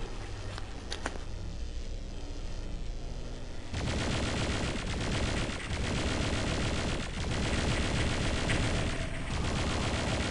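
Dense gunfire from the video game Doom 64, a sustained rapid volley of loud shots that erupts abruptly a few seconds in after a quieter stretch of distant pops, continuing without pause to the end.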